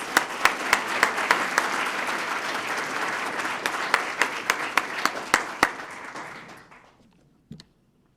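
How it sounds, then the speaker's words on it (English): Audience at a police swearing-in ceremony gives an officer another round of applause: dense clapping with a few sharp individual claps standing out, holding steady, then tapering and fading out near the end. "Let's give him another round of applause"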